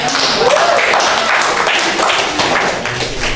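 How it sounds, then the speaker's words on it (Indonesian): A small audience claps for Mas Ipin during a classroom-style talk, a steady patter of hands that runs the whole moment at moderate, close range, with some murmuring voices underneath. "Beri tepuk tangan untuk Mas Ipin ya"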